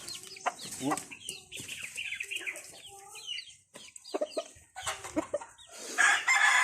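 A six-month-old fighting rooster crows close by among clucking chickens, with bursts of calls rising and falling over several seconds.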